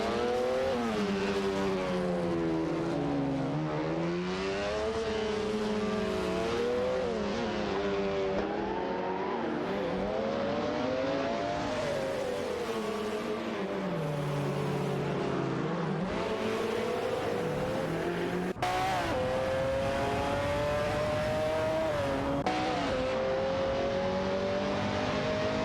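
A video game race in which a Ferrari 288 GTO and a McLaren F1 fight for third place, engines revving and shifting continuously with rising and falling pitch and tires squealing, loud and close, no talking.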